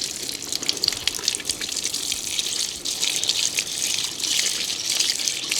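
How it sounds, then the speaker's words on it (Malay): Water is sprayed hard in a water splash test, producing a loud, continuous hissing gush that runs for several seconds with a brief dip midway and no voices. "kita akan tembak air kat sini"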